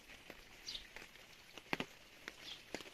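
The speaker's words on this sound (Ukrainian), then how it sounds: "капає шумить цей дощ" Rain dripping and pattering outdoors among garden plants, sparse irregular drops and soft taps, faint and close, with a few brighter splashes and light chirps in the background.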